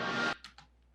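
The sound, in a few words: reversed synth sound made in Edison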